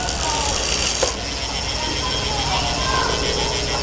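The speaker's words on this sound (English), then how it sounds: "let's start off with a free hub sound check" Freehub of a 2021 Trek Emonda SL5 road bike ratcheting as the wheel coasts, a steady fast buzzing click that carries on throughout, close and fairly loud.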